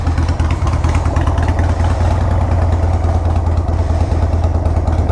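A Harley-Davidson Sportster 883 Hugger motorcycle engine idles steadily up close, with a deep, loping rumble and a rhythmic mechanical clatter.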